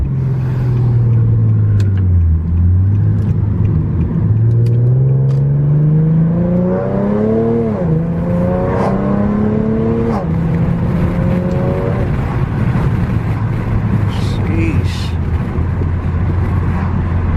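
A loud Infiniti G37 engine and exhaust revs up repeatedly while driving, its pitch climbing and dropping as it downshifts through gears, close by and continuous.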